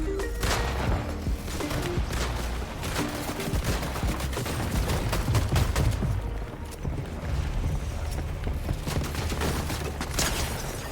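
Rapid bursts of game gunfire in a Fortnite battle crackle almost without pause, dense and loud, with crashes and impacts mixed into the continuous fusillade.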